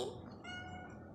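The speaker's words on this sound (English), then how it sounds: "Oh, Kitty." A single drawn-out cat meow, faint and soft, heard alone against quiet room noise.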